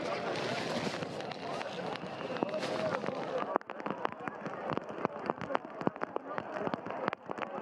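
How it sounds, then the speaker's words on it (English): Heavy rain pours down during the Riyadh Marathon, a dense hiss that thins after a few seconds into scattered sharp patter and drips, with faint voices in the background. "You can still hear the noise of the rain coming down."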